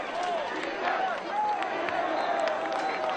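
A high-school varsity football crowd yells in the stands, a dense, fairly distant roar of voices with rising chant-like calls, while a commentator talks over it.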